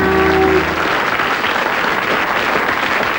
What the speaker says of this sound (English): Round of applause for Thing.